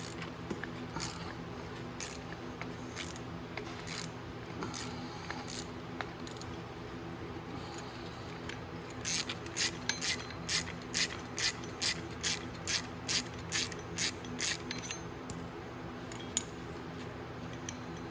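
Ratchet wrench loosening the bolts on the front wheel hub of a Venom 125cc mini jeep: steady low mechanical clatter, then a fast run of about a dozen sharp, close ratchet clicks, with no talking.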